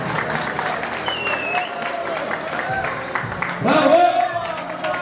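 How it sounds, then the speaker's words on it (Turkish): Guests at a Turkmen wedding cake cutting in an Istanbul wedding hall clap steadily under talk and voices, and the clapping swells louder near the end. "Alkış yok mu? Alkış."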